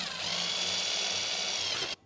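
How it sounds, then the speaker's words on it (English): Power drill running steadily with a 3/32 drill bit, pre-drilling pilot holes while installing TimberTech vertical cable railing; a continuous close, loud whine that cuts off abruptly at the end. "I'm gonna take my 3/32 drill bit and just pre-drill"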